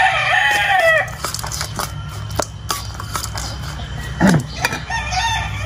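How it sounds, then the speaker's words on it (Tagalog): A white chicken flaps its wings and crows, with loud rustling flutter at first, then a drawn-out crow and a few clucks close by. "Huwag mo ipakita yung manok na pumapagaspas."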